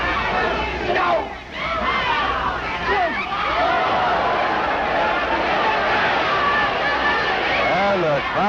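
A 1960 wrestling crowd at the Olympic Auditorium in California gives a loud, sustained collective roar, swelling and dipping, with scattered shouts over dense hubbub and a commentator talking throughout.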